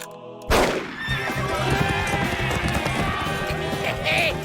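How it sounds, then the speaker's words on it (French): A horse whinnies amid loud galloping hoofbeats and rushing commotion; voices may be mixed in. "Une vraie fusée, ce cheval."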